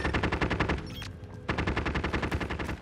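Rapid automatic gunfire in the game Call of Duty: Modern Warfare, two loud close bursts of fast rhythmic shots split by a brief pause of about three quarters of a second.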